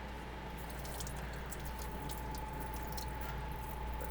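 Running water rinsing dishes aboard a boat, a steady continuous wash with faint drips and splashes over a low engine-like hum, close and moderately quiet.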